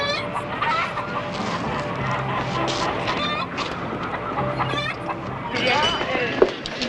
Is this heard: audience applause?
no